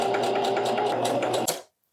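A sewing machine stay stitches the fabric of a tie top, running steadily and close for about a second and a half before stopping abruptly.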